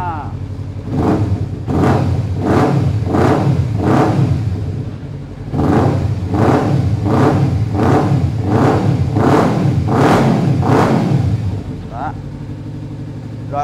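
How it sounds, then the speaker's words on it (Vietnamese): A big-displacement motorcycle's exhaust revs hard, close up, in a steady run of about a dozen rhythmic throttle blips. Each burst rises and falls quickly before the engine drops back briefly and the revving resumes. "Bây giờ cho em nó nghe tiếng bô."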